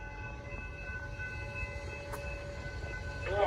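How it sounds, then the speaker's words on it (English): An outbound train rolls through a suburban station without stopping, a low steady rumble of wheels and cars with tonal hum, building slightly louder toward the end, heard alone from moderate distance. "The next outbound train approaching your station will not stop."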